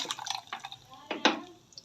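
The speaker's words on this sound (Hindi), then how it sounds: "थोड़ा सा पानी और डाल लेते हैं।" A short trickle of water splashes into a container of falsa sharbat drink, with a brief pour near the end, quiet and close.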